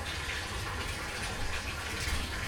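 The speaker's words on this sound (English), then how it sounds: "you guys can hear the sound of the water and stuff running" Steady rushing of water pouring into a 900-gallon tank, a continuous broadband wash that stays level and close throughout with no voices.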